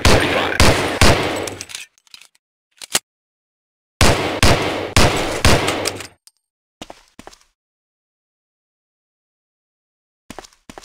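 Colt .45 pistol shots fired at a target in the video game Medal of Honor: Allied Assault, loud sharp bursts of rapid reports in two clusters, followed by a few isolated clicks and faint mechanical sounds.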